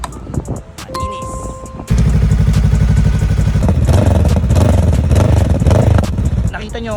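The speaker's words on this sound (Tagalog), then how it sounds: "Tinatakpan ko yung tambucho, saka ko i-rev ng i-rev." A Honda Rebel motorcycle engine with its exhaust pipe covered revs hard. After a short stretch of clatter and a brief tone, a loud, sustained, throbbing engine roar starts and continues to the end.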